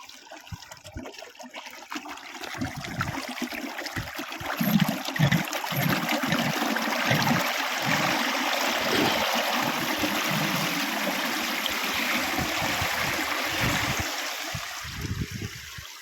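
Irrigation water runs through channels in a farm field after the wheat harvest, a steady rushing and gurgling flow with uneven low surges, heard close and continuous throughout.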